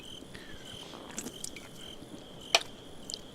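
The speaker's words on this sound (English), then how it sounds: "I like the addition of the crickets." Crickets chirp in the Resident Evil 4 video game, a steady high trill held under faint ambient background, with a few soft clicks and one sharper tick near the end.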